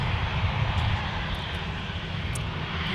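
A Northwest Red Tail airliner taxiing past at Minneapolis–Saint Paul airport, its engines giving a steady, loud jet rumble and roar that holds without a break.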